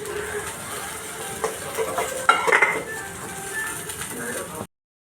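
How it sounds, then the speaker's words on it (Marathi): Fried okra is scooped out of a metal pan onto a plate, with a few close scrapes and a sharp clatter of spatula against metal midway over a faint background hiss. "आता मी भेंडी ताटात काढून घेते"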